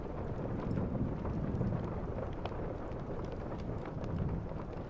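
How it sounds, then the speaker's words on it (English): Rain patters steadily on a window with low rumbling of distant thunder beneath it, a soft continuous wash of drops that stays fairly quiet and even, with no voices. "listening to the sound of rain and the distant thunder"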